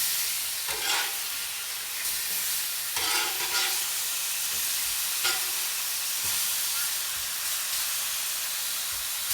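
Steaks frying in a pan give a steady, close sizzle with a broad hiss and a few brief louder crackles and stirring bursts throughout.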